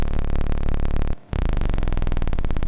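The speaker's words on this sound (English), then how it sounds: "What you're hearing right now is the mono signal." An unprocessed mono signal from a noise device pulses loudly in a rapid, even rhythm, dense and buzzy, cutting out for a brief moment partway through before resuming.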